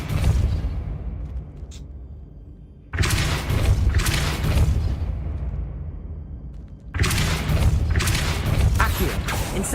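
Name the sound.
Depulso spell being cast in the video game Hogwarts Legacy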